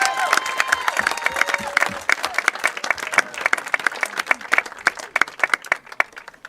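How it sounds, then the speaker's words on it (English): A crowd applauds a high school football player at a game introduction, dense, loud clapping that fades and picks up again with some cheering mixed in, and a voice talking over it. "Please join me in a round of applause for Cameron Carr."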